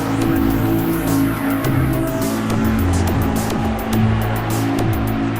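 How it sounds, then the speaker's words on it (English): Porsche Carrera Cup race cars at Silverstone roar past in a close pack, loud high-revving engines rising and falling as several cars sweep by in quick succession, with no talk over them. "Mark Cowne has the leading group of Carrera Cup cars coming through once again."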